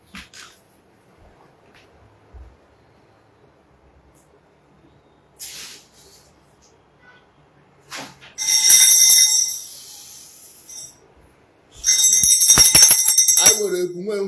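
A hand bell rung indoors during a church ministry gathering, two loud bursts of bright clanging each lasting a few seconds, the second ending in a sliding tone, with quiet murmuring and a faint voice between them.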